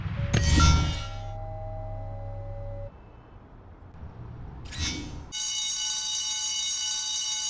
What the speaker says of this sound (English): Guess I'd better check out that alarm.